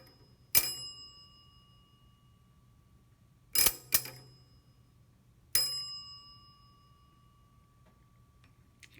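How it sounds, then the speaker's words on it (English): An electric bell driven by batteries through a loose wire rings in short, sharp metallic strikes each time the circuit closes. There are four bright dings, two of them close together, each fading quickly into quiet. "So when I make contact and complete the circuit, the electricity runs through and it rings the bell."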